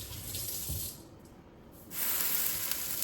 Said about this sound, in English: We have the sizzle.